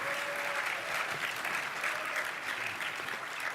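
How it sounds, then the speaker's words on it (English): A crowd applauds steadily in a theatre at PAX East 2020, a dense wash of clapping at an even level throughout, with a brief tone sounding faintly underneath. "Let's have a round of applause for our enforcers this weekend. Let them hear it."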